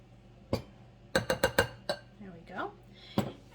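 A spoon mixes flour, salt and baking powder in a bowl for biscuit dough, giving a quick run of close, sharp clinks and taps followed by softer scraping.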